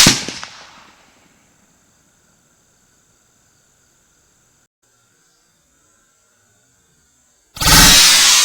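A .300 RUM rifle firing an M2AP max handload at a Level 4 LA Police Gear ceramic armor plate about 60 yards away. A sharp, loud blast decays into near silence, followed later by a second abrupt, loud report.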